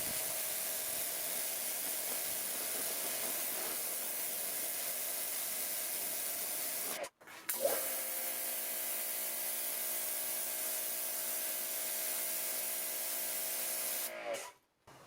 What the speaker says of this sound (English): I'm going to change the nozzle to the turbo nozzle.